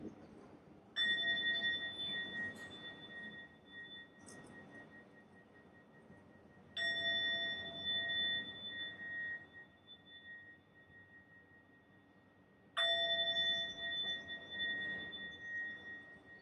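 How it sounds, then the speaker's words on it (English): A bell rings three times during a mindfulness practice, each strike a clear bright tone that hangs and slowly fades before the next, spaced several seconds apart in a quiet room. "So let's listen to 3 sounds of the bell."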